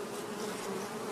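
Agitated honey bees buzzing around a hive super, a dense steady droning hum with no break, close and loud, no voices.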